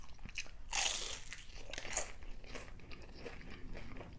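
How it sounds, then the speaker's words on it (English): Biting into crispy Vietnamese egg rolls during a pho meal produces a sharp, close crunch followed by quieter crackling chews, soft overall, with no talk. "Y'all hear that crunch?"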